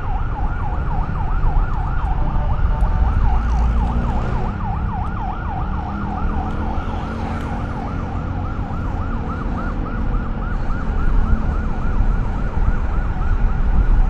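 An ambulance siren wails in repeated rising and falling sweeps, steady and fairly loud over a continuous rumble of road traffic and rain on Emilio Aguinaldo Highway.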